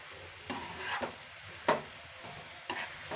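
Ghee being stirred into a carrot laddu mixture in a pan, with a few soft scraping strokes of a spoon against the pan over a quiet background.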